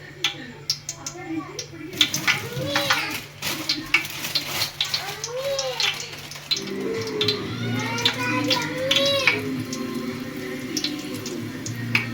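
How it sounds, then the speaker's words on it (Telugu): Onions go into hot oil for mutton dum biryani, and a steady sizzle rises and thickens partway through, continuing with stirring and clatter alongside. "ఆయిల్ హీట్ అయింది ఫ్రెండ్స్. ఇందులో ఆనియన్స్ వేయాలి."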